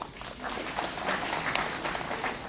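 Audience at a farmers' gathering in Jammu applauding, a dense, even wash of clapping that carries on without a break for a few seconds.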